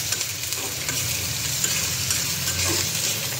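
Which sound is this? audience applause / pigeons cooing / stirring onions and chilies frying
stirring onions and chilies frying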